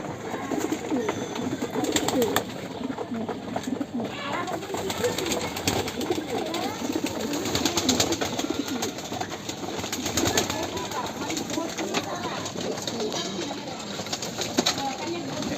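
Racing and Giribaz pigeons cooing steadily while feeding at a pigeon farm, with soft overlapping coos and occasional wing flutters, close by and continuous, with faint voices in the background.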